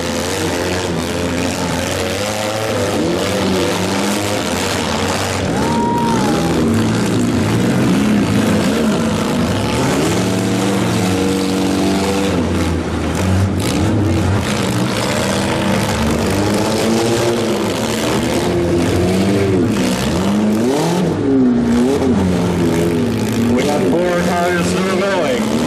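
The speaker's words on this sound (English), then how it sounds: "We still got a 5-car demolition derby." Stock compact cars at a demolition derby drone and rev continuously and loudly, with wavering engine tones layered under a voice talking over the crowd.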